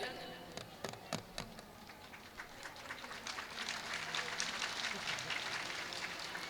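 An audience at a religious storytelling festival in a Rajasthan temple applauding, a few sharp separate claps building into sustained, dense clapping that keeps going, with voices in the background.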